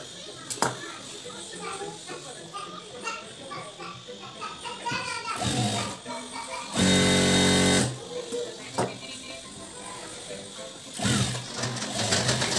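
A sewing machine stitches a sleeve lining to a garment, its motor whirring in short bursts with one loud sustained run, while a voice talks over it.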